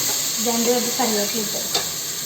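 Onions fry for a crab curry in a pan, giving a steady close sizzle while a utensil stirs them with a few scraping strokes, briefly and without speech.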